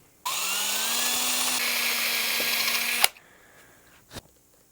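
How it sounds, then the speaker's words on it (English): A power drill bores locator pin holes into a guitar top and body, a loud close whine lasting about three seconds that ends abruptly, followed by a few light knocks. "We're going to drill some locator pins in this thing."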